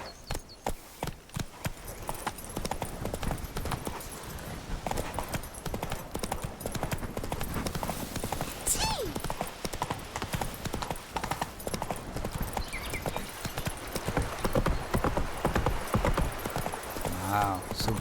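Roach, Geralt's horse in The Witcher 3, gallops with steady, loud hoofbeats that continue throughout under game sounds, and someone talks over the riding.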